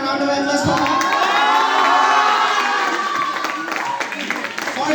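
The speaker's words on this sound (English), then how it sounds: "Can we have a round of applause for her?" A crowd of students cheers, whoops and claps for their teacher Sunita at a school welcome and farewell program. Loud, excited young voices shout together throughout.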